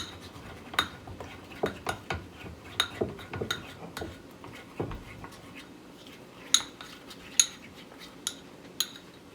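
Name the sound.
stirring snack mixture together with a utensil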